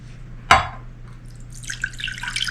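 Water poured into a pan while making an apple couscous salad. A sharp splash opens it, then a softer, steady trickling pour follows.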